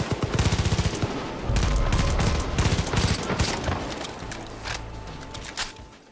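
Rapid automatic gunfire and heavy shotgun blasts from the video game Far Cry 5 ring out loud and close in dense bursts, the opening volleys rattling fast and evenly before giving way to sparser, fading shots.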